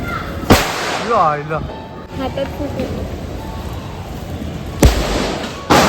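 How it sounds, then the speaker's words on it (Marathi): Firecrackers set off one after another outdoors: two sharp, loud bangs several seconds apart, with people's voices chattering in between. "आता एक एक करून आम्ही बॉम्ब फोडायला चालू केले"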